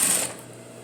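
A sewing machine runs briefly, stitching a half-inch seam with a back tack on the back of a pair of jeans, loud at the start and then fading.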